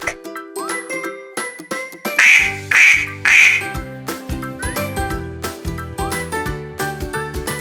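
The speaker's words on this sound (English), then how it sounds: "Duck." A cartoonish duck quacks three times in a row over bright, tinkling children's learning-game music, the quacks loud and clear against the melody.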